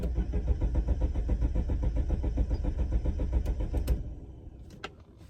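An Alfa Romeo 164 parked on a driveway cranks without firing, the starter churning in a fast, loud, even rhythm for about four seconds before cutting out and leaving a faint background.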